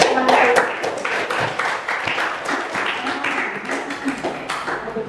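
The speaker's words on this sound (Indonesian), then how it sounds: "Berikan aplaus untuk teman saya" Classroom audience applauding a classmate's presentation during a teaching practice lesson, a steady wash of clapping hands lasting several seconds, loudest at the start, with some voices mixed in.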